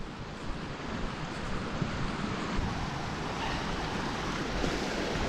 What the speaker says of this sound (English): let's drop down this stream here, forms a bit of a waterfall